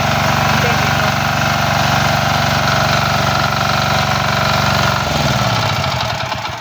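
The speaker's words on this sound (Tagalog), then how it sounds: "medyo matanda na yung makina nyo, makakailang start kayo niyan" An old engine runs steadily after starting, a loud, continuous low rumble with rapid regular firing pulses that slows and winds down near the end.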